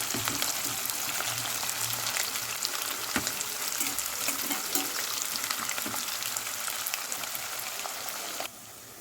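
Sliced onions, lengthwise-cut medium ones for potato pulao, fry with a dense crackling sizzle like light rain that runs steadily and then drops off sharply near the end.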